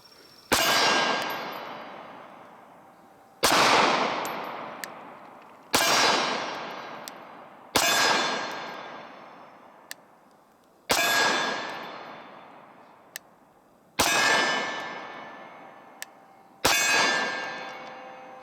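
Sarsilmaz SAR-9 pistol fired left-handed at a shooting range: seven sharp, loud reports spaced a couple of seconds apart, each ringing off into a metallic decay, with faint small clinks between shots.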